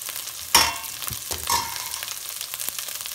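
Spices hitting a pan of frying rajma and black urad dal gravy give a sharp sizzling burst, then a steady, close crackle and hiss.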